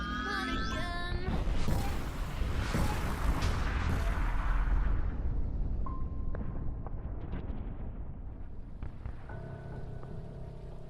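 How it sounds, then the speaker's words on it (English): Three ethereal cannons rain fire upon a guild in an animated fantasy battle, a loud rolling barrage of booms and rumbling blasts that swells early and then fades into a softer, tonal hum. "Before me appears 3 more ethereal cannons, raining fire upon the Protectors Guild."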